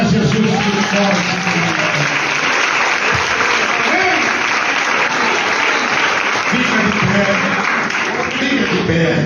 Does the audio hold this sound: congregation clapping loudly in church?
yes